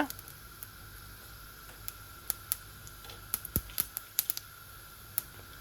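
Cumin, mustard and fennel seeds spluttering in hot oil for a beans curry, with quiet scattered pops and crackles over a faint steady hiss, the bursts growing more frequent toward the end.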